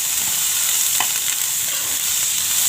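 Kachori filling of peas roasting in a pan over a low flame, a steady close sizzle and frying hiss running throughout with a faint stir partway, no talk.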